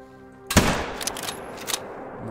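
A single rifle shot in the hunting game theHunter: Call of the Wild, a sharp close crack with a rolling echoing tail that fades over a second or two against quiet outdoor ambience.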